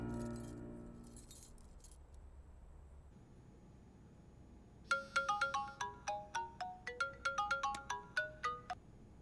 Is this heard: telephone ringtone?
yes